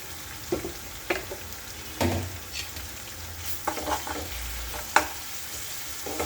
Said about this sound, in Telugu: బాగా ఫ్రై చేసుకోవాలి అలా వేయించుకుని అలా పేస్ట్ స్మెల్ పోయేదాకా వేయించుకోవాలి